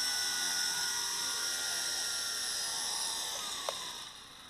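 A Blade 200 SR X RC helicopter whines steadily at close range as it comes in to land at a park, its high rotor and motor tone holding and then easing off toward the end.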